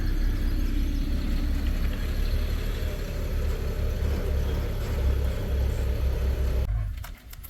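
A moving truck's engine idles nearby on a Missouri moving day, a steady low rumble filling the clip before cutting off abruptly near the end.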